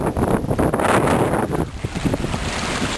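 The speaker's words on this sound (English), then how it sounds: "It's really, really windy for some reason." Strong gusting wind buffets the microphone outdoors during a flash flood, a loud roaring rush that swells and eases, with a watery wash mixed in.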